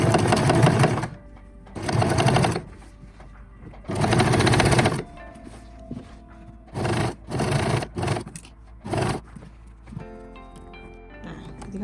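Bursts of domestic sewing machine stitching through culottes fabric, several runs of a second or two separated by short pauses, close and loud with faint handling noise between.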